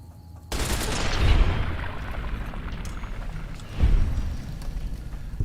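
Light machine gun fire in a video game, two bursts of rapid heavy shots with booming low ends and trailing rumble, loud and close, the second burst near the end.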